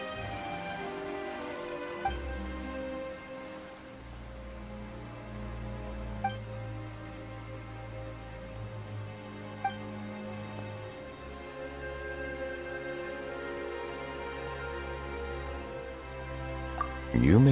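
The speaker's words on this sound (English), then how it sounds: "Why is it raining all of a sudden?" Steady rain pours down across a Genshin Impact scene, a dense continuous patter under a low sustained musical drone, with a few faint drip-like ticks and no break from start to finish.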